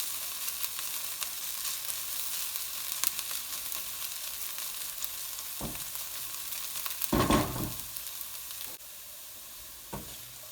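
Food caramelizes in a frying pan for a quick biryani rice, a steady close sizzle running throughout, broken by a few brief scrapes and stirring clatters of a utensil, with no talking.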